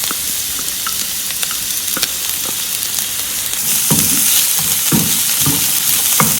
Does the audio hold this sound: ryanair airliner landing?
no